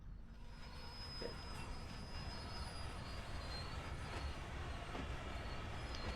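A train runs in Train Sim World 6, a steady rolling rumble with a thin high wheel squeal drawn out along the rails, close and continuous throughout, quiet overall with no talk.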